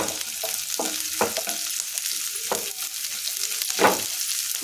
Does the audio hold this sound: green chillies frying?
yes